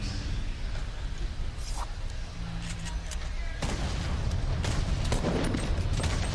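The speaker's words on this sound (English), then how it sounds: "Oh, that player with the nade launcher. Almost just eating explosion there" Grenade launcher explosions and gunfire in Fortnite during a tournament match, heard as dense booms and bursts layered over a constant roar of game noise, sharper blasts in the second half.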